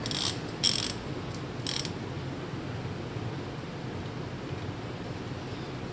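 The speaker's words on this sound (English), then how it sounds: "we're going to have to use our torque angle gauge" A ratchet torques the cylinder head bolts on a 2007 Mini Cooper S R56, giving a few brief, soft clicks early on, then steady low background noise.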